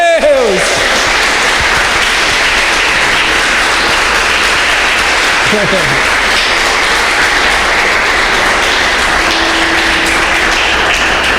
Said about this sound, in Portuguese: aplaude bem forte a Deus.